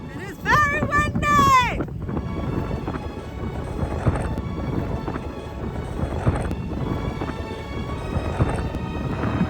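Loud, buffeting wind on the Isle of Mull, Scotland, roars and rumbles across the microphone, with a short burst of voices at the start partly swallowed by the gusts.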